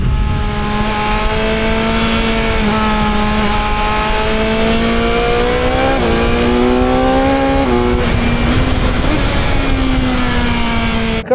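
A steady, loud motorcycle engine drone with rising and falling pitch, heard from inside an Alpinestars Supertech R10 helmet at about 80 km/h, with constant rushing wind noise and no talking.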